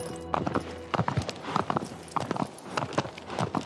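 Horse hooves clip-clop in a steady walking rhythm, close and clear, with a low hum in the background, in the game Shadow of the Colossus.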